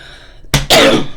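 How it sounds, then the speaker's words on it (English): A single harsh cough or throat-clear from a person comes in two quick, loud bursts close to the microphone after a moment of near silence. "I didn't cough on you."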